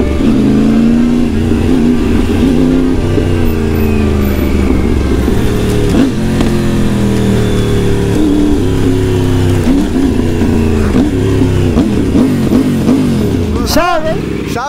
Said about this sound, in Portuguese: Tô com medo, é muito forte a moto.